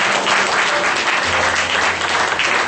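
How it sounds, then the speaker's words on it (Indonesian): A church congregation applauds during a worship service, a brief burst of dense, even clapping from many hands with a low background rumble beneath it. "Berikan tepuk tangan yang terbaik kepada Tuhan."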